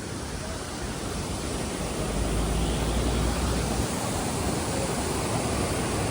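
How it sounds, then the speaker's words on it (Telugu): A roadside waterfall on a cloud-covered ghat road pours in a continuous broadband rush, steady and moderately loud, with no talking. "ఇదిగోండి ఇక్కడ వాటర్ ఫాల్ ఉంది."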